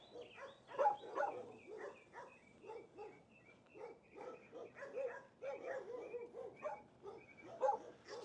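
A dog left near the San Antonio Zoo gives a long run of soft, faint barks, yips and whimpers, fairly steady and somewhat distant, with no talk over it.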